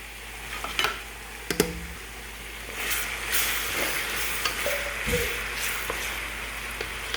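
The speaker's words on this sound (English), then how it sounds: "I go ahead and add my red onions, fry all together" Red onions and tomato frying together in a pan give a continuous close sizzle, broken by a few sharp clinks and scrapes of a spoon against the pan.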